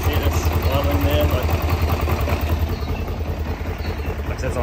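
A 2006 Kawasaki KLE 500 motorcycle idles low with the choke off, a steady close thumping putter running throughout with a faint high whine above it.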